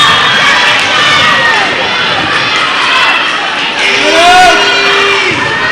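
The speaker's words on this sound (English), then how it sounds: "Crowd is going crazy." Loud crowd at a high school girls' volleyball match between Round Rock Lady Dragons and Vista Ridge Lady Rangers, cheering, shouting and whooping steadily throughout with a few sharper shouts rising above the roar.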